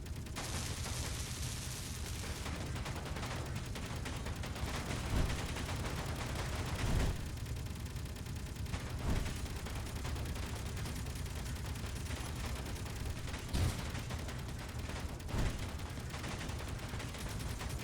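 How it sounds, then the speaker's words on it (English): Turret gunfire in the space game Space Engineers: a continuous dense rattle of automatic shots with occasional heavier booms, steady and fairly loud throughout, with no talking. "The hell is that thing shooting at?"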